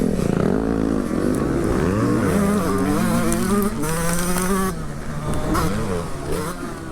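A 47-year-old two-stroke racing motorcycle, ridden close during a race, buzzes loudly with a high, rising and falling engine whine as it shifts through gears past the finish line, with other bikes faintly behind.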